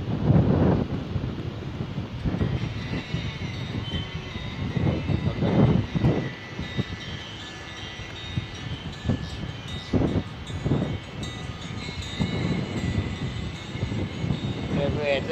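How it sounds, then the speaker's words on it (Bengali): Strong wind buffets the microphone on Mandarmani beach before sunrise, a continuous rumbling roar with gusty surges, while a person speaks intermittently over it. "এত হাওয়া দিচ্ছে, ক্যামেরায় কনফিউজ হয়ে গেছে।"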